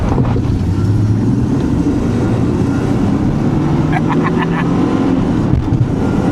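Steady engine and road rumble inside a moving Nissan 300ZX sports car with wind buffeting, plus faint rattles and thumps from the suspension; the car is hurricane flood-damaged.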